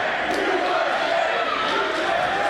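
A dense pro wrestling crowd chants loudly in unison, urging use of the chair, a steady roaring wall of voices filling the arena at a New Texas Pro championship match.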